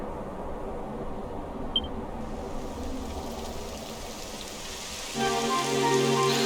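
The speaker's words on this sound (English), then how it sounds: "Typical. It would have to go and start raining, wouldn't it?" Steady rain in Dragon Quest XI patters and hisses, with a brief click partway through; near the end a louder wash of rain joins sustained musical tones.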